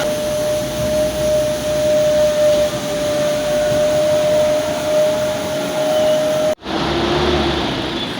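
Car tyre spinning on brake test rollers at a vehicle inspection station: a steady loud mechanical drone with a constant hum, cutting off abruptly near the end before resuming.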